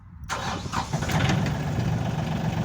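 A Yanmar US301 compact tractor from 2006 cranks and fires, its engine catching after a brief silence and settling into a steady, close, loud idle with no talking.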